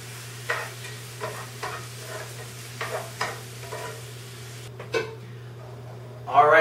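Shrimp and prosciutto spaghetti tossed in a sizzling pan: a series of distinct stirring and tossing swishes over a steady frying hiss, with a louder clatter at the end.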